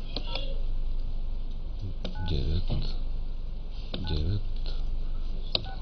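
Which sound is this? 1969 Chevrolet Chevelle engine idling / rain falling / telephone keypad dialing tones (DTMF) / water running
telephone keypad dialing tones (DTMF)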